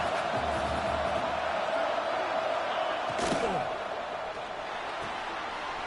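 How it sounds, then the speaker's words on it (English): A large stadium crowd at a football game roars in a steady, loud wash of noise, urging the defense toward a red zone stop, with a brief sharp thud partway through and the din easing slightly near the end. "And here comes the noise. This crowd is trying to inspire this defense to make a big red zone stop."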